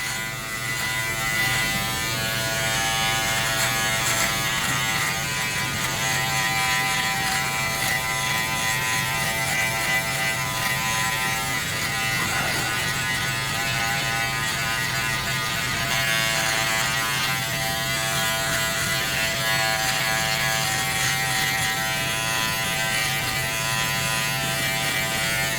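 A Manscaped Lawn Mower 5.0 Pro Ultra trimmer buzzes without a break while trimming chest hair, a steady close electric whine that holds for the whole stretch with no talking.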